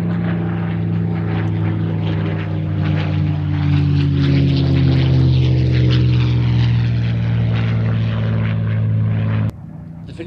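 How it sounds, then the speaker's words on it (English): Spitfire propeller aircraft flying at a public display: a loud, steady, rumbling piston-engine drone with a slowly shifting pitch as it passes, cutting off abruptly near the end. "Peter also flies the only Mark 11 Spitfire photo reconnaissance version that's in the UK"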